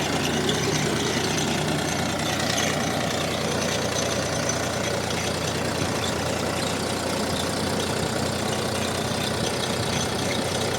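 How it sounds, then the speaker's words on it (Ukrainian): A tractor engine runs steadily while pulling a potato digger through a field during the harvest. The engine gives off a continuous rough, knocking drone, with a mechanical rattle and creak from the digger layered on top. There is no talk. "ви і почули, як копалка скрижить і як мотор робить"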